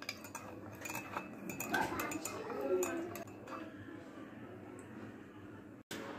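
A spoon stirs sugar and orange juice into a cup of tea, clinking lightly against the cup in a few bright taps and scrapes, then a sharp knock near the end against a quiet room background.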